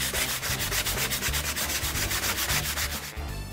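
Dry sanding sponge rubbed over acrylic-painted wood, a steady rhythmic scratchy rasp of quick back-and-forth strokes, close and continuous with no talk.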